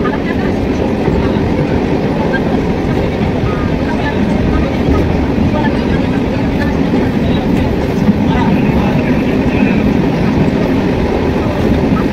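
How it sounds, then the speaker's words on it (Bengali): Bishnupur–Asansol MEMU local train rumbling steadily across the Damodar river bridge, a loud, continuous low roar with faint rhythmic clatter throughout, heard from on board. "আমাদের ট্রেন পার হচ্ছে দামোদর নদ"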